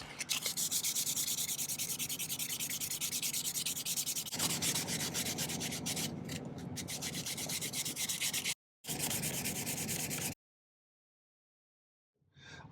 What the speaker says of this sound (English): So let's do some sanding on this and this here.